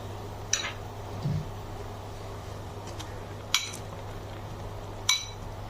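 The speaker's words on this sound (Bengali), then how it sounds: "এবার আমি দিয়ে দিচ্ছি আমগুলো।" Raw green mango pieces go into a simmering pot of small-fish curry, giving three sharp, spaced metallic clinks of utensil against pot over a steady low background hum, close but fairly quiet, with no talking.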